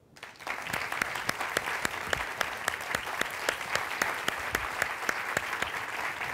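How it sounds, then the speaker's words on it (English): A crowd applauding steadily and loudly as Senator Joe Biden is welcomed, many hands clapping in a dense, sustained wash with a few sharper claps standing out, building quickly at the start. "please welcome and offer a good round of applause to Senator Joe Biden."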